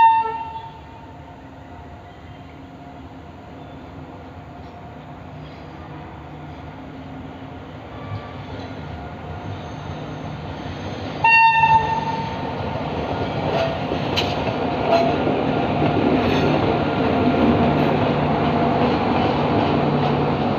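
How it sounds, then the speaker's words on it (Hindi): A WAP-5 electric locomotive pulls a train into platform number 1 of a crowded station with a rising rumble and rattle, a short horn blast sounding midway. "वेब 5 का लोकोमोटिव है, इसका प्लेटफॉर्म नंबर 1 पर जा रही है।"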